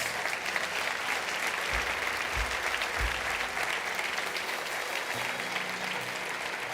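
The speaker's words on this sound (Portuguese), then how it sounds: "Você pode dar ao Senhor mais um forte aplauso por cada um deles." A congregation applauds during a church service, a dense, steady wash of clapping that holds at an even level for several seconds with a few low thumps underneath and little talk.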